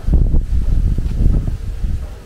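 Gusty wind buffets the microphone outdoors in the East Legon neighbourhood of Accra, Ghana, a brief, loud, low rumble with rustling leaves and no talking.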